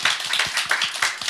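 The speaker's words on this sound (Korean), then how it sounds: "우리 박수로 한번 시작해 볼까요?" A small audience claps at the start of a talk show segment, a brief burst of distinct, fairly close hand claps in a loose rhythm.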